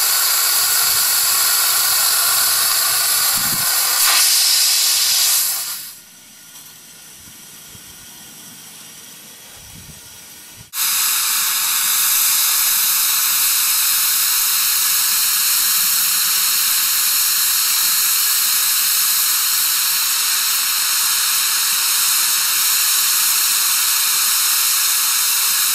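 A loud, broad steam hiss from a homemade monotube boiler, released through a hose and small needle valve, runs for several seconds, drops to a quiet hush when shut back, then bursts back on abruptly and continues.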